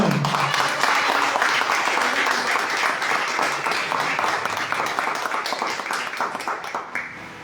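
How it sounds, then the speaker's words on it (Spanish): A church congregation at a worship service applauds loudly, a dense wash of many hands clapping that holds steady for several seconds before thinning toward the end, with some voices mixed in. "Dale un fuerte aplauso al Señor."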